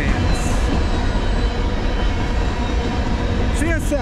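CSX freight train M406 rolls past on the Conrail Lehigh line, a loud, steady rumble of wheels on rail with a brief metallic squeal near the end.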